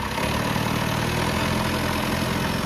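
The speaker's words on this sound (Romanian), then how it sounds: "Prima oară zgomotul ăla infernal. Închipuieți să ai un motor diesel vechi de vreo 20-30 de ani," An old diesel boat engine, some twenty to thirty years old, idles on a boat in Thailand, giving a steady, loud, droning rumble with no pauses.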